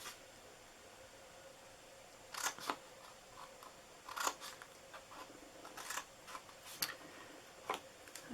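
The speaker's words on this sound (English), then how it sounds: "And then we are going to cut up each one of these. These are our bottom flaps." Scissors snip through paper box flaps while a lacy treat box is being made, giving a quiet run of short, sharp clicks in uneven bursts. The cuts sound close up against a faint background.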